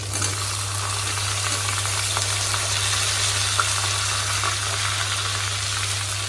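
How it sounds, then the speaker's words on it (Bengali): Cut green bananas frying with garlic in a hot pan, a steady close sizzle and crackle that holds evenly throughout with a low constant hum underneath. "রসুনটাও ভাজা হয়ে গেছে, দিয়ে দেবো আমি কেটে রাখা এই যে কাঁচকলাগুলো।"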